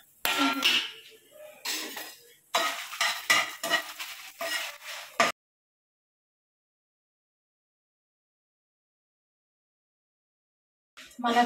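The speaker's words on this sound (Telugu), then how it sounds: "కొంచెం ఆయిల్ వేయించుకోవాలి." Spices stir and crackle in a little oil in a home kitchen, giving bursts of scraping and sizzling over about five seconds, then near silence until a short final burst.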